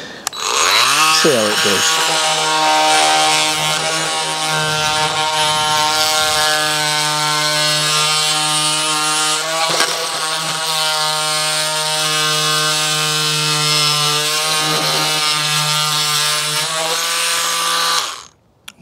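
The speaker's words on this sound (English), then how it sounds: "we've got the scraper blade on it now, so you could probably scrape this off just by pushing" A Parkside cordless multi-purpose tool fitted with a scraper blade scrapes hot glue off wood, giving a loud, steady high-pitched mechanical whine that runs almost nonstop, with someone talking briefly over it.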